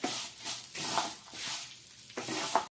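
Fried vermicelli stirred in a pan with chopped almonds, cashews and peanuts, a continuous hissing sizzle with soft, rhythmic stirring scrapes up close, no voices.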